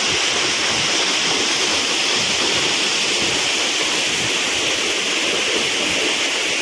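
Njandirukki Waterfalls near Velliyamattom pours down in a dense, unbroken roar of rushing water, loud and steady with no rhythm or pauses, filling everything from the overlook with no voices heard.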